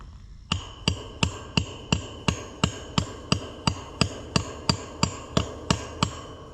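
A hammer strikes a fence post in a steady, evenly spaced series of about sixteen sharp metallic blows, close and loud, with no talking.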